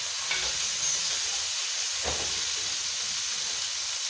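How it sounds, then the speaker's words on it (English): Ground beef sears in a hot pan with a steady, close, broadband sizzle that keeps going without a break, and a couple of faint scrapes or stirs come through, with no voices. "As you get a nice sear and char on the outside"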